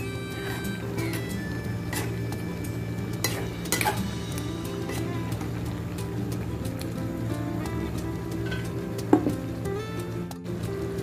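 Sweet potato and okra being sautéed in a pan, a soft continuous sizzle with scattered clinks of a spatula against the pan over a steady low hum, no talking.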